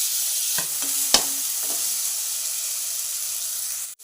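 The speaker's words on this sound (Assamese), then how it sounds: "এতিয়া ইয়াতে মই বিলাহীখিনি দি দিছোঁ যিহেতু পিঁয়াজখিনি ৰঙা হ'লেই" Tomatoes go into onions frying with turmeric in a pan, bringing a dense steady sizzle and a few quick stirring scrapes near the start, close and continuous with no voices.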